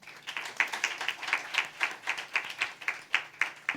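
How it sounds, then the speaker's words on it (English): An audience at a conference claps in a brief burst of quick, steady hand claps, moderately close and fairly quiet. "Please clap for Colin."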